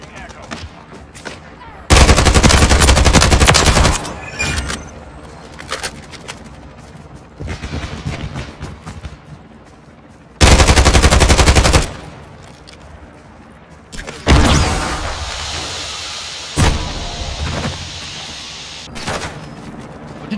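Bursts of automatic gunfire from Call of Duty MW3, two long loud rattling volleys and several shorter ones, with a player talking faintly in between.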